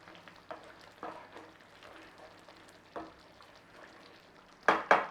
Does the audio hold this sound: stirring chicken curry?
yes